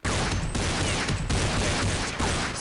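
Dense gunfire from the Counter-Strike video game while testing weapons such as a shotgun, a loud continuous burst of rapid overlapping shots with no pause across the whole stretch.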